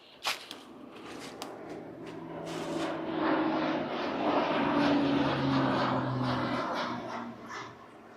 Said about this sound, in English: we got an airport that butts right up to our property, so we get to see a lot of planes out here